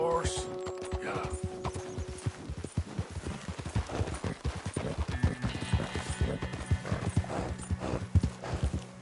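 A horse with hooves clip-clopping in a steady, close rhythm and a whinny near the start, while people talk over it.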